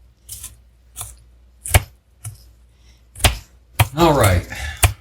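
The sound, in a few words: chopping onion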